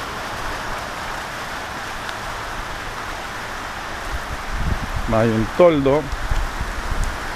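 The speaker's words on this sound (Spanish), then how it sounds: "Esa es la lluvia, así es" Steady rain hisses throughout in American Samoa as a broad, even wash of sound, with a person speaking briefly near the end.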